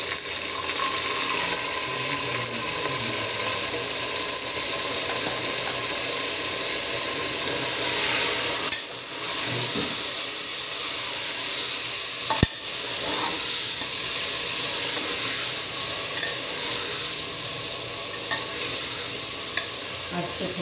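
Mutton pieces frying in a pot with onions already fried red for aloo gosht, a loud continuous sizzle with repeated stirring scrapes and a sharp clank of a spoon against the pot midway.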